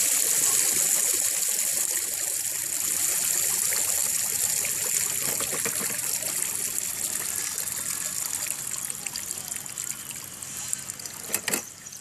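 Steady rush of water pouring and trickling out of an EcoJet Plus pool cleaner, continuous and fairly close, with a faint clunk near the end.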